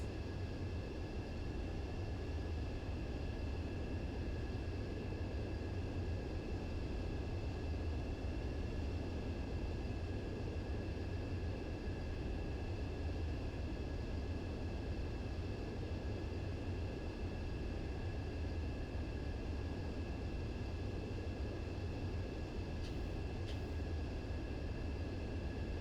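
Fighter jet engine in Ace Combat 7 during a landing approach, a steady, droning roar with faint high tonal whine, constant in level throughout with no voices.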